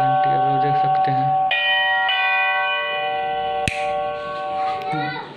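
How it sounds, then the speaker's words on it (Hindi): An electric water tank overflow alarm bell rings continuously and loudly, with a sharp click partway through and a voice speaking over the ringing. "ये घंटी तब तक बजेगी जब तक आप मोटर का स्विच और इसका स्विच नहीं बंद करते हैं"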